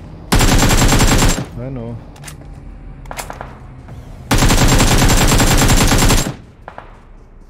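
Two long bursts of rapid automatic fire from an M4 rifle in the battle royale game PUBG Mobile, loud and close, split by a quieter stretch with brief single shots and game effects, while players talk over it.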